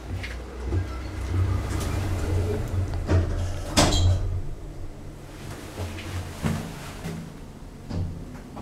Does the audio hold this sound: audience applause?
no